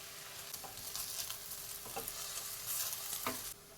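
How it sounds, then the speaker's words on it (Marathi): Vegetables and basmati rice being stirred and sautéed in a pan for spiced masale bhat, a steady soft sizzle with intermittent scraping strokes of a spoon, close and without talk. "पहा, आपले संपूर्ण भाज्या आणि तांदूळ छान परतवून झालेला आहे."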